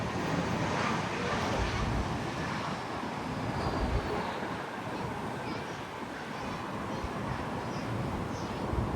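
A Frontier Airlines A320 landing on runway 10 at San Juan's South Complex, a steady broadband roar of engines and rushing air holding at one level throughout without break.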